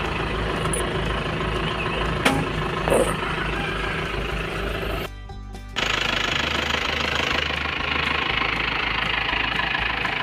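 An Isuzu TFR pickup truck engine idles steadily with a low, knocking rumble, briefly muffled midway, then continuing unchanged.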